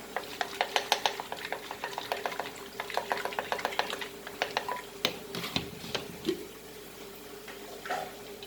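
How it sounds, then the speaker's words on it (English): Goan prawn balchao masala thinned with vinegar is stirred in a pan, a run of quick, close scraping and squelching strokes with a faint sizzle beneath, slowing and thinning out toward the end. "And now I let it get, mix this nicely, thoroughly"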